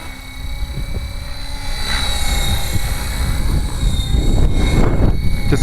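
A Gaui X5 550-size RC helicopter flips overhead, its motor whine and rotor throb swelling steadily and growing louder toward the end.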